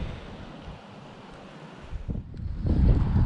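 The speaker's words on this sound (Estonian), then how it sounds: "tuul puhub" Wind gusts and buffets a microphone outdoors on a road trip through Norway, a rough low rumble that swells louder toward the end, with no talking.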